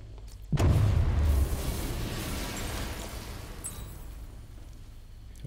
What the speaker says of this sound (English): I need to be at a safe distance before I detonate.